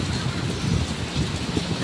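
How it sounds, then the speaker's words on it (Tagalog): Heavy rain pours down steadily, a dense, constant hiss of drops drumming on surfaces with no pause. "Kaya malakas ang ulan."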